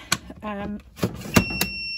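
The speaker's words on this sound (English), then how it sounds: "you hear it start beeping and the red light comes on" A few short electronic beeps and a sustained high tone ring out from an Uppababy car seat base warning, between clicks and handling noises, close and fairly clear.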